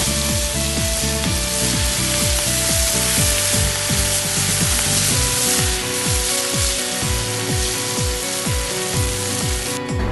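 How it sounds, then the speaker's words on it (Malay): Ground sambal paste hissing and sizzling in hot oil, a loud, steady frying roar with a rhythmic scraping pulse running through it, with no talk. "Selepas mengisar bahan, masukkan bahan tersebut ke dalam minyak yang telah dipanaskan terlebih dahulu."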